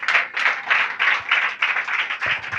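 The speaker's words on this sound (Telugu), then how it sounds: "ఆయన వల్ల వార్తవి నేను ఆశీర్వదించబడుతున్నాను అన్నవాళ్ళు ఇప్పుడు చప్పట్లు కొట్టండి" A church congregation claps in a steady, fairly quick rhythm, with many hands blending into close, continuous applause for the whole short stretch and no voices heard.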